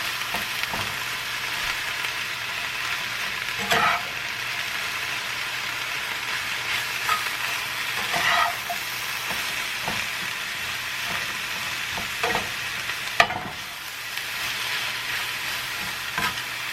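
Mushrooms, onions and peppers frying in a pan for Philly cheesesteak, a steady loud sizzle broken by occasional scrapes and clatters of stirring.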